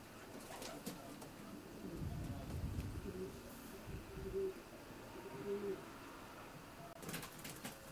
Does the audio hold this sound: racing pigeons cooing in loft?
yes